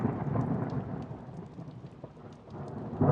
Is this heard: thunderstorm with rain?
yes